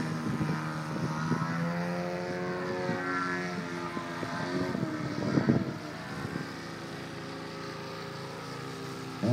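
A propeller airplane flies a tight vertical loop very low over the ground at the 2010 Argelès air meeting, its engine droning steadily with rising and falling pitch as it climbs and dives, loud and continuous.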